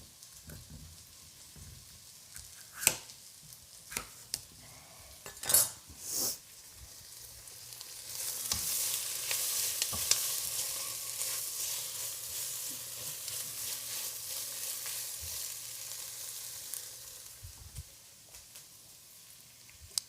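Onions frying and caramelizing in a pan for a vegan butternut squash dish: a few sharp knocks, then a soft, steady sizzle swells about halfway through and runs on quietly with no talk.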